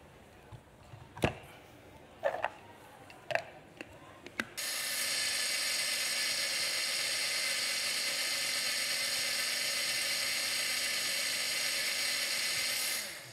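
Basil goes into a blender during a chef's cooking demonstration; a few clicks and knocks come first, then the motor starts and runs as a loud, steady whirring drone for about nine seconds before it cuts off.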